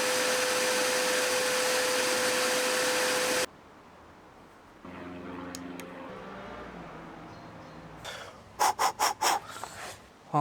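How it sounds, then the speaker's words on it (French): A loud, steady vacuum cleaner motor, used as a blower on a BMW 525 TDS, roars for a few seconds and cuts off, followed by quieter rubbing, clinks and a few short bursts of blowing air. "Du coup on met l'aspirateur en mode souffleuse"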